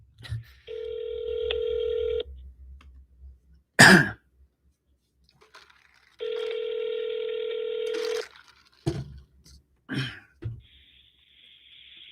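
Phone call tones: two long steady dial-tone stretches separated by a cough and throat clearing, followed by short bursts and a higher tone near the end, with no talking.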